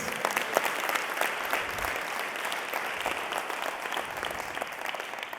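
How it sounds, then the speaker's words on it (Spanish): Sustained applause from a large church congregation during a sermon, a dense, even wash of clapping that holds steady throughout without any voices. "Si va a aplaudir, apláudale al Rey de Reyes."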